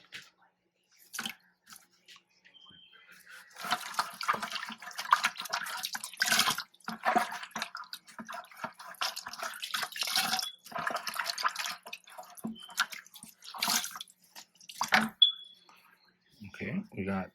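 Clean water splashes and trickles over canister filter pieces from a reef tank as they are rinsed, in uneven bursts and drips with quiet gaps between them; a person speaks intermittently over the splashing.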